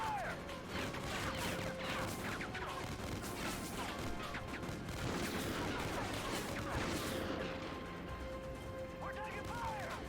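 Dense, continuous gunfire and crashing impacts from the Call of Duty: Ghosts video game, loud and sustained across the whole stretch with overlapping shots and debris-like clatter, no talk over it.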